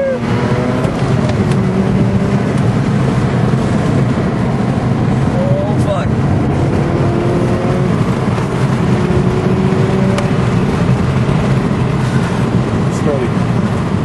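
A Mazda RX8 drives on the Oran Park race track, its engine droning loudly and steadily, with rising and falling revs and gear changes heard from inside the car while someone talks over it.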